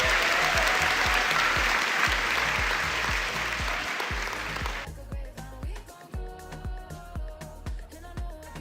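Applause from a group, dense and steady for about five seconds, then cutting off abruptly as rhythmic music with a thumping beat continues alone.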